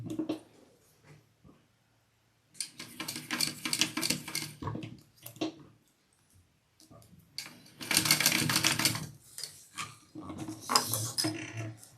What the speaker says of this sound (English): I'm gonna baste just along the edge of that zipper there